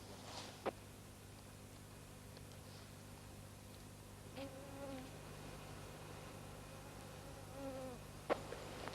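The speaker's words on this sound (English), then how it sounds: "billions of mosquitoes are buzzing over forest and swamp" Faint, steady buzzing of insects, likely mosquitoes, over forest and swamp in a national park, with a few brief clicks and no talk.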